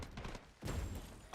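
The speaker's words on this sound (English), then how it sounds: "I hear gunfire." Gunfire from the video game Delta Force, a short muffled burst of shots with dull thumps, fairly faint and blurred in a game mix.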